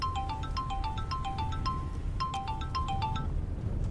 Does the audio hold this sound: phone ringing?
yes